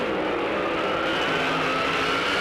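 Pro Modified drag race cars, a 1949 Merc and a 1954 Corvette, roar side by side down the strip in a finals run, a loud steady engine blare holding throughout.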